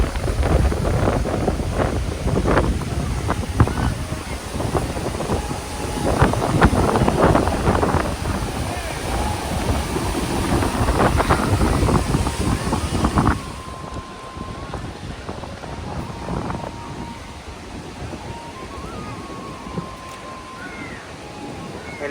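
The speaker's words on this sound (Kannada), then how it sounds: "ಫೋಟೋ ತಗೋಣ ಅಂದ್ರೂ ಆಗ್ತಾಯಿಲ್ಲ, ಅಷ್ಟು ಗಾಳಿ ಬೀಸ್ತಾ ಇದೆ" Strong wind buffets the microphone at Rock Beach in Pondicherry, a loud continuous roar with gusty surges that drops to a lighter rush partway through, with faint sea noise beneath.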